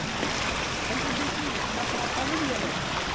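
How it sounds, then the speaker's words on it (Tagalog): Natural spring water flows down from above in a steady, close rushing wash, an unbroken broadband gurgle of a small stream with no pauses. "natural lang na bumubukal yung tubig na galing sa taas"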